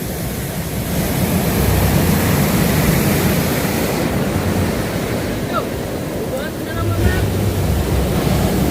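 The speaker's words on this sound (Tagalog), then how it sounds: "Oh, laki ng alon na." Big ocean waves surge and break continuously on a shore near a hut, a loud broadband roar mixed with wind buffeting the microphone, with faint voices and whistle-like calls briefly in the background.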